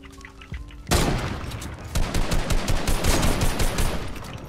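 Rapid gunfire bursts in the Fortnite video game, a dense, loud barrage of shots starting abruptly after a quieter moment and continuing in quick repeated cracks.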